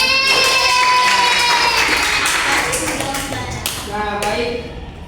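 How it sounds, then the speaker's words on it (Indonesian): A primary-school class claps together during a lesson, a busy patter of small hands filling the room, loud at first then thinning out, with voices mixed in. "Tepuk tangan lagi."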